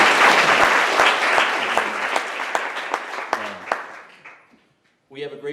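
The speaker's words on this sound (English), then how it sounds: "applause" A conference audience gives a round of applause in thanks to two people, a full burst of clapping with a few sharp claps that tapers off, then a voice begins speaking after a brief pause.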